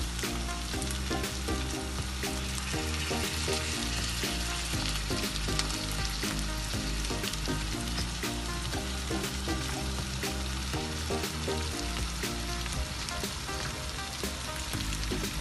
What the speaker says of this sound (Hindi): मिक्स करें और सिर्फ 1 मिनट के लिए मज़ीद भूनें